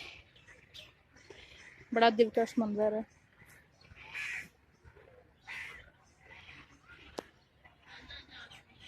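Birds chirping and crows cawing in the Bagh-e-Jinnah garden, faint calls scattered through the background while someone speaks over them outdoors.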